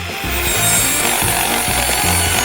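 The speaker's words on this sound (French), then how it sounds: "C'est facile et rapide de le faire avec une scie." A hand saw rasps back and forth through a cactus in quick, rhythmic strokes, close and loud, with no talking.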